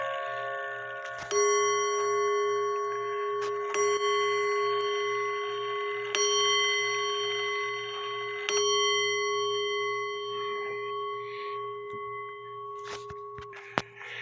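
Five tuned bells of a Seth Thomas Sonora clock ring out in a slow chime, each strike bright and close before decaying into lingering, overlapping tones.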